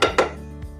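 Casserole dishes knock against each other in a kitchen, giving two quick, close clinks and then a softer third tap.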